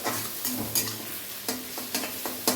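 Onion frying in hot oil, a close sizzle broken by a few sharp stirring scrapes and clinks from a spoon against the pan, with no voices.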